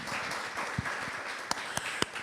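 Audience applause at a public heritage event in Port-au-Prince, a soft, distant wash of clapping with a few sharper individual claps standing out near the end.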